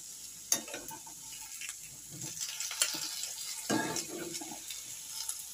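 Potatoes and cauliflower frying in a pan, a steady close sizzle broken by a few sharp scrapes and clatters of stirring, with no talk.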